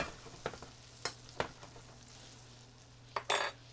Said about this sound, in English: And then I'll turn them over for a little second to get the back sides browned up.